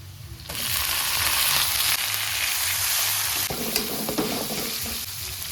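Fish frying in hot oil with chopped onion in a pan, a loud steady sizzle that starts abruptly and keeps going throughout, with occasional stirring scrapes and clatter.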